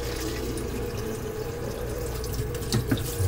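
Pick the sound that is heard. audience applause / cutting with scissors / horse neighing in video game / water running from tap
water running from tap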